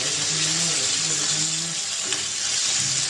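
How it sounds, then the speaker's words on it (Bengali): Continuous hissing sizzle of sea-caught surma fish frying in a pan, loud and steady, with a faint voice murmuring underneath. "মাছটা উল্টানো হয়েছে, ভাজাও হয়েছে, এটা এখন নামিয়ে নেব"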